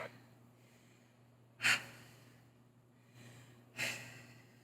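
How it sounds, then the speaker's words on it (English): Heavy breathing during a lower-body strength workout: two sharp, loud exhalations or gasps spaced about two seconds apart, close up, over a faint hum, with no talking. "that breathing gets me every time"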